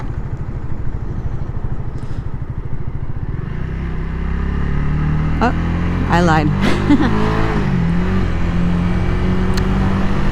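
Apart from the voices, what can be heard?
road traffic, cars passing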